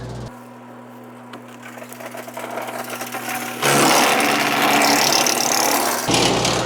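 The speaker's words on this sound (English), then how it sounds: "This maple should chip nice." An engine-driven wood chipper runs at steady idle, then loudly bites into and grinds maple wood during land clearing. The chewing and splintering lasts a few seconds before the engine settles back to its drone.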